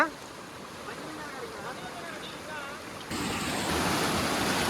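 Rushing river water swollen by hill rainfall roars steadily, a broad noisy wash that grows louder and brighter partway through, with faint voices underneath.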